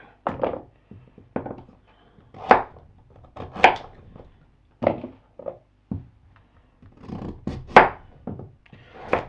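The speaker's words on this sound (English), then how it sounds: "half them and then sort of thickly slice them, maybe centimetre slices just under" A knife slicing thick pieces of halved beetroot on a board, a series of about a dozen separate crisp cuts ending in dull knocks, irregularly spaced with quiet pauses between, close and without talk.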